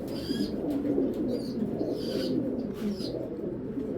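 Pigeons cooing close by in a loft of fancy breeds, soft throaty coos repeating over a constant low murmur of many birds, with a few brighter chirps on top.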